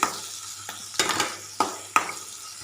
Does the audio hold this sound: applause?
no